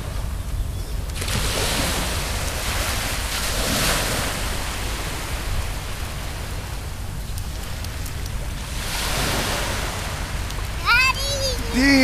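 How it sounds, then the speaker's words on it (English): Ocean waves wash continuously onto the shore with a broad, rushing roar that swells and recedes, mixed with wind noise, and a brief high voice is heard near the end. "The waves are coming."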